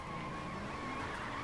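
Car tyres squeal steadily while a car drifts in Forza Horizon 3 Hot Wheels, a continuous screech over engine noise with no talk.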